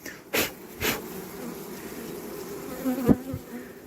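Honeybees buzz steadily at a hive during queen-rearing season, a dense continuous hum broken by a few brief knocks of handling near the start and again later.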